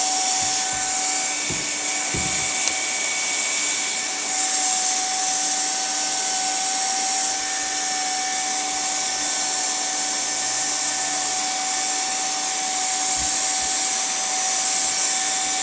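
A heat gun heating split boot material runs as a steady, loud whining blower hum with a constant high tone, continuous throughout with a few faint clicks and no talking.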